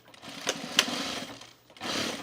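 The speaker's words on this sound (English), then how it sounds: "And now we're going to stitch this." Sewing machine stitching denim jean shorts in two bursts, a longer run of rapid mechanical stitching, a short pause, then a second run, close and moderately loud.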